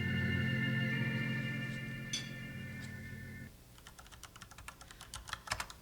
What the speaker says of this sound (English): you've been typing on that computer for 5 minutes